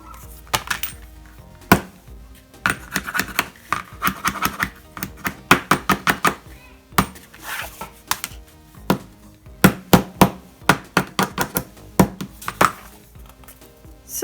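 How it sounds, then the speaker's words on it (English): A small hammer taps the metal ring corners of a planner flat, striking in quick bursts of sharp metallic knocks, several in a row, then pausing before starting again. "the trick is to get a little hammer"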